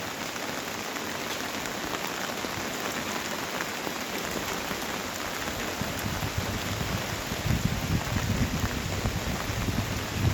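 Steady broadband rush of the flooded Mahananda River fills the whole stretch, a dense continuous roar, growing slightly louder toward the end.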